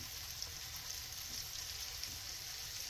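Morel mushrooms fry in warming oil in a pan, giving a soft, steady sizzle and hiss that runs unbroken throughout, with no voices.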